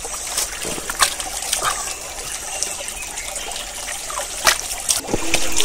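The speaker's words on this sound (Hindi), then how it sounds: "नदी के पानी से मुंह धो के तो अलग ही मज़ा आ गया" Someone splashing their face with cold river water in a Nainital forest near Bhowali, with a continuous trickle of flowing water broken by brief splashes, close and steady.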